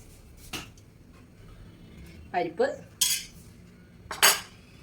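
Hot rice and dal being served onto plates, with a few sharp clinks and scrapes of a metal spoon against dishes spaced over several seconds in a quiet kitchen.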